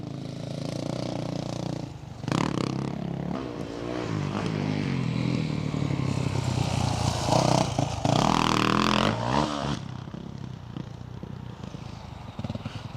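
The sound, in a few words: motocross bike riding on supercross track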